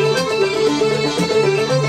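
Brief burst of a Celtic dance tune on uilleann-style pipes, banjo, accordion, mandolin and guitar, a dense layered melody played loudly without any voices.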